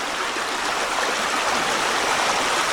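A decent sized stream on a rain-wet hiking trail rushes steadily and loudly, a continuous broad wash of flowing water close by with no voices.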